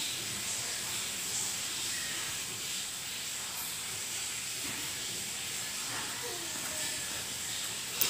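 Lung and intestine pieces sauté in onion-tomato masala for a Tamil-style curry. They give a continuous, fairly quiet sizzling hiss with occasional stirring clinks, and there is no talk over it.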